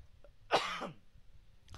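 A single short, rough cough from a person recovering from the flu, fairly close but quiet, with near silence around it.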